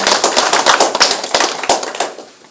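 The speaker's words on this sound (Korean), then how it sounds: "박수 좀 부탁드리겠습니다." An audience at a community meeting claps together in dense, steady applause that fades slightly toward the end, with no talking over it.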